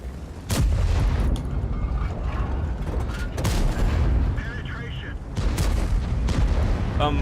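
Heavy tank cannon shots and impacts in World of Tanks, loud booming hits recurring every couple of seconds over dense battle noise, with voices talking.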